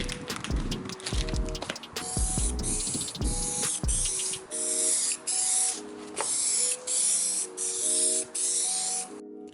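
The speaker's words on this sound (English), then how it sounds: "This I'm gonna spray with primer real quick" Bursts of aerosol primer hissing from a spray can, several long sprays with short gaps, plus clanking and rattling near the start, while priming a car quarter panel patch.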